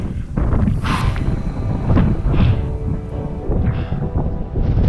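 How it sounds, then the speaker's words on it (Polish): Strong wind on the summit of El Teide volcano, Tenerife, buffets the microphone in steady, roaring gusts, with low rumbling and occasional hissing surges, loud and close throughout. "Może nie silny, ale wiatr jest tak przeszywający."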